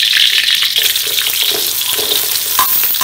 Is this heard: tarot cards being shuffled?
no